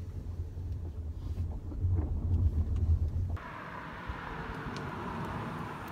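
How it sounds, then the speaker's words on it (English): A Mercedes C350e plug-in hybrid drives along, a steady low rumble with road and wind noise throughout, the tone shifting partway as the car changes pace. "Let's take it for a quick drive, and I'll tell you more about the car whilst we're driving."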